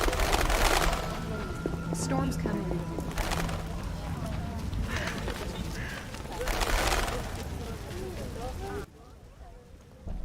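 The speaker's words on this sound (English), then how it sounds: "It's really raining." Steady rain falling in the video game The Witcher Enhanced Edition, a continuous hiss with occasional louder bursts, heard beneath game sounds and speech.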